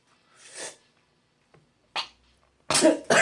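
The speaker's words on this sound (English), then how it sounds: "I told you I was going to have to stop coughing on you" Several short explosive bursts of coughing separated by pauses, the last two loud and close together, with no talking.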